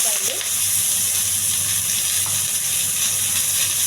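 Onions frying in oil with curry leaves and a bay leaf, the base for a chicken curry, give a steady, close, continuous sizzle that holds evenly throughout.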